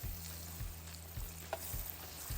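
Okra frying in a small batch of hot oil, a steady close sizzle with a faint rhythmic pulsing underneath.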